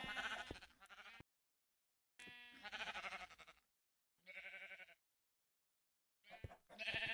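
Sheep bleat in the Minecraft video game, four separate wavering cries with short silent gaps between them, clear and close with nothing else in the background.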